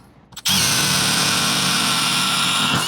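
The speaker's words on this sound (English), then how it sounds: "we will go ahead and drill our next hole." A power drill starts after a brief pause and runs at a steady high-pitched whine, loud and close, boring into wood before stopping.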